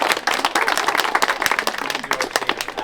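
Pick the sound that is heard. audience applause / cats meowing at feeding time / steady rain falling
audience applause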